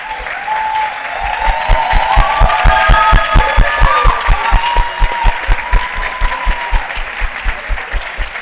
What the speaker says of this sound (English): A round of applause for our ladies.